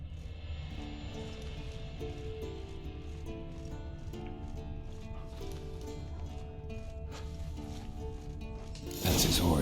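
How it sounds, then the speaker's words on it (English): A horse in The Witcher 3 clip-clops with regular hoof beats over a game soundtrack, moderately loud and steady, and a brief louder burst of noise comes right at the end. "Here's the horse."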